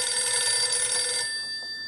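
An old telephone bell rings in one sustained, bright trill for about a second, then cuts off, leaving quiet room tone.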